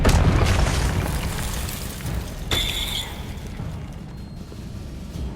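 A Confringo explosion spell goes off in the Hogwarts Legacy video game: a loud, booming blast with a heavy low rumble, then a sharp burst partway through that fades into a lingering roar.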